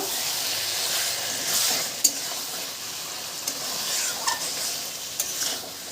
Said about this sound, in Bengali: এবারে দিয়ে দেবো ভেজে রাখা চিংড়ি মাছ চিংড়ি মাছটা দিয়েও ভালোভাবে মিশিয়ে নেব